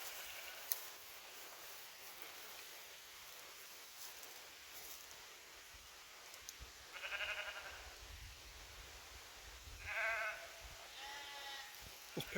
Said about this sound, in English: Let's say hello to the sheep.